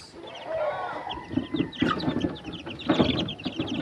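Chickens cluck in short, uneven bursts at close range, with a few faint higher calls mixed in, and no talking over them.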